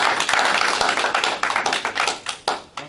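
Audience applause for a presenter at a Lockport Township board meeting, a dense, loud burst of many hands clapping that starts at full strength and thins into scattered claps toward the end.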